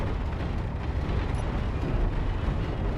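A missile explosion in the space game Space Engineers gives a dense, roaring rumble that stays loud and sustained throughout without a clear single blast.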